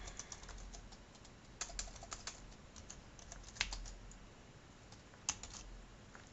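Fingers tapping out login credentials on a computer keyboard, a quiet stream of light clicks with a few sharper keystrokes, close and steady with no talk over it.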